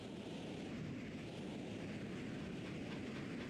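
A train rumbles in the Super Luigi Galaxy video game: a steady, dense, low rolling roar with no breaks, fairly quiet throughout.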